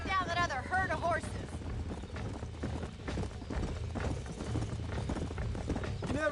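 Horse hooves clip-clop through the Red Dead Redemption frontier, a steady rhythmic trot heard close under in-game chatter and background music, with a brief whinny near the start.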